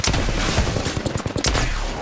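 Rapid automatic gunfire rattles in dense bursts during an Apex Legends firefight, loud and close for about two seconds.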